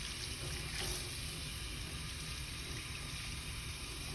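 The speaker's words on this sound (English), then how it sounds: "now I'm ready to rinse. So I'm gonna rinse from the wrist downwards." A tap runs steadily into a sink while hands are rinsed from the wrist downward, a continuous close hiss of flowing water with no breaks.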